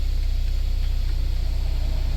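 A Hyundai Veloster's AC blower motor runs with a steady whooshing hum and a low engine drone underneath, close and unchanging.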